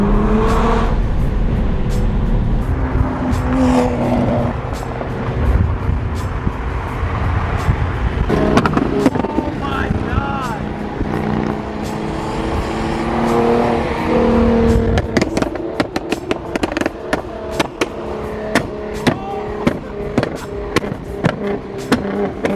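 A 700 hp Nissan GTR on drag radials runs a canyon road, its loud exhaust droning and rising through gear changes, followed by sharp crackles and pops as the throttle lifts, heard close from inside.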